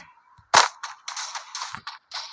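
A sharp single gunshot crack in a video game, followed by a string of quicker, lighter shots and clicky bursts, close and fairly loud, with no voices.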